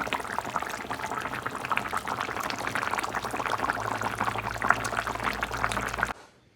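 Broth poured into an eggplant and potato fish curry, a steady bubbling liquid wash running for about six seconds, fairly close, before cutting off abruptly.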